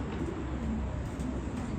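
Low, rolling coos from domestic pigeons just after rain, a few soft calls rising over a constant ambient rumble.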